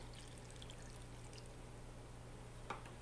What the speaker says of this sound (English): add 150 milliliters of water to the frying pan